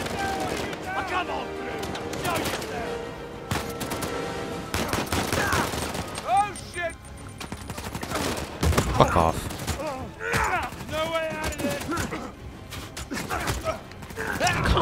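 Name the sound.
gunfire in Uncharted 4 video game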